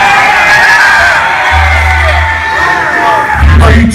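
Concert crowd at a death metal show, a loud, continuous mass of yelling, whoops and cheering filling the space, with low rumbling swells underneath.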